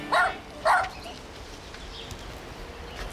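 Dogs give two sharp, close barks in quick succession near the start, then only quiet background remains.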